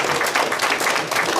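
Loud, dense audience applause at a leadership and mentoring day event, a continuous close roar of many hands clapping that holds steady throughout.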